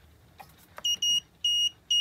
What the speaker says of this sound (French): on a l'alarme parce que le moteur ne tourne pas